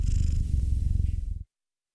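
A loud, steady cat purr rumbles continuously up close, then cuts off abruptly near the end.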